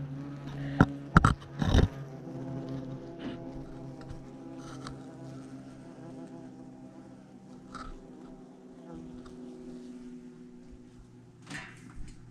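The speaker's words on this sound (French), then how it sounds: "Attention, guêpe germanique." German wasps buzz continuously at a nest during an emergency pest removal in a child's bedroom, a steady droning hum with a few sharp close-up bumps and knocks early on.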